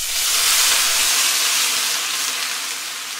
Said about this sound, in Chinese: 倒入开水，